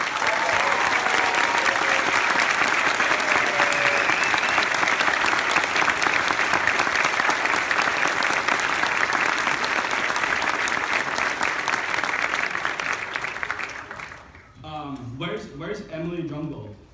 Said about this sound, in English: give them an applause like you have never given an applause to anyone before